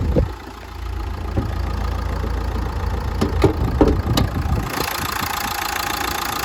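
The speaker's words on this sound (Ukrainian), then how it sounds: "Двигун працює гарно" A 2012 Nissan Qashqai with a 1.5 dCi diesel engine idles steadily close by, a low continuous rumble with a few light clicks and taps over it.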